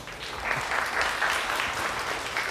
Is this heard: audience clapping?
yes